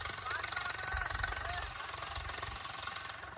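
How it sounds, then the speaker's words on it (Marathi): A tractor engine on a farm chugs steadily with a low, rumbling knock, running continuously and fairly close throughout. "ही ट्रॅक्टर चालू आहे बघा"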